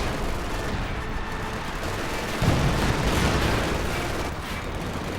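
Lined-up support guns fire in Company of Heroes 2, a dense, continuous rattle of shots and distant booms with a heavier swell of fire about halfway through.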